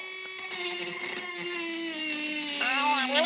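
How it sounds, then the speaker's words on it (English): A Dremel rotary tool drills glue out of the butt of a graphite fishing rod blank, a steady high whine with a sustained pitch that sags slightly as the bit loads, then shifts near the end, close and continuous. "I'm going to take my Dremel tool and I'm going to drill."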